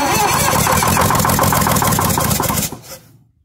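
Detroit 6-71 two-stroke diesel engine cranking and catching on its first start, a loud rapid rhythmic clatter for nearly three seconds before it dies away.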